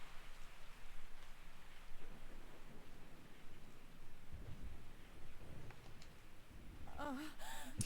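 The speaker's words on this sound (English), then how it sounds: "I woke up to the sound of falling rain." Steady falling rain in Resident Evil 3 Nemesis, a dense, moderately loud hiss that continues throughout, with a brief tonal voice-like sound near the end.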